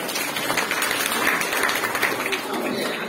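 Applause from students at a school public lecture, a fairly close burst of clapping lasting a few seconds with voices mixed in.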